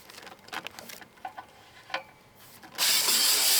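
An aluminum Will-Burt 25-foot telescoping mast section collapsed and stowed, heard as a series of close metallic clicks and rattles, followed by a sudden loud, steady hiss near the end.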